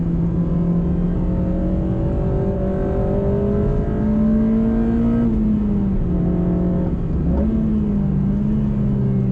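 A Honda Civic Type R FD2 Mugen RR with its naturally aspirated engine revving hard, the pitch climbing and dropping through repeated high-rpm pulls, loud and close with no talking.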